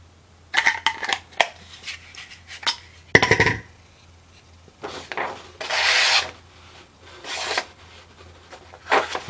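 A fixed-blade knife cuts through material with a series of short, raspy scraping strokes and rubbing sounds, close and fairly loud, separated by brief quiet gaps.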